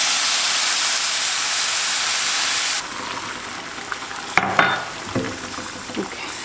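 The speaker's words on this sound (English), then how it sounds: "You're gonna hear the sizzle." Water poured into a hot pot of toasted vermicelli and rice sizzles with a loud, steady hiss that cuts off abruptly after about three seconds, followed by softer bubbling and a few clinks.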